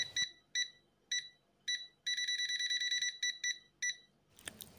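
A digital multimeter's buzzer, a Chint ZTW890D, beeps sharply in short bursts, then in a rapid continuous run, then in a few more single beeps before a brief rustle.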